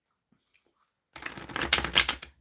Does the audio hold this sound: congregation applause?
no